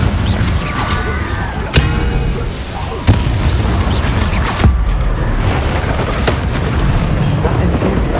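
Fire-spell explosions from Hogwarts Legacy gameplay: several sharp booms and crashes burst at irregular intervals over a dense, continuous game soundscape, fairly loud and close.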